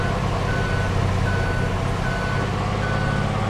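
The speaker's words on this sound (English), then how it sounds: "Why is my beeper on?" Forklift reversing beeper in Farming Simulator 22, a steady repeating electronic beep in evenly spaced pulses over constant engine drone, loud and close, with no talking.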